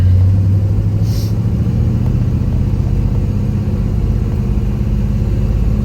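A 1968 Pontiac GTO running while driving on a warm day, its engine producing a loud, steady low rumble from inside the car, with no speech over the continuous drone.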